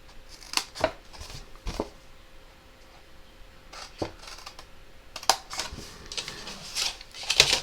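Scissors cut card stock for the envelope box of a 6x6 Halloween box card, a scattered run of sharp snips and crisp clicks at close range, some louder near the end, with no talking.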